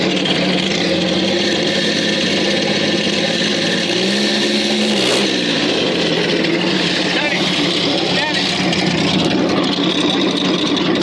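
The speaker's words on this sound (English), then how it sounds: "That's a hell of a 6-cylinder." Hudson rat rod six-cylinder engine running loud and close, a constant rough roar that surges and dips in pitch around the middle as it is revved, with people talking over it.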